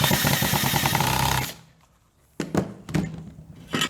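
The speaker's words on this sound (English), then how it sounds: "So then you just put your screw in at 45 and tighten that up" Power driver screwing a screw at an angle into a wooden table leg made from scrap wood, a loud buzzing whir for about a second and a half, then a pause and a few sharp knocks and clicks.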